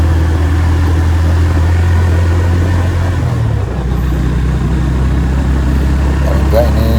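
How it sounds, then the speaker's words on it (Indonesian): An old 150cc four-stroke motorcycle labors uphill on the road toward Mount Telomoyo's summit, its loud, close, low engine drone droning steadily with a brief shift in pitch midway. "Ternyata motor jadul juga kuat."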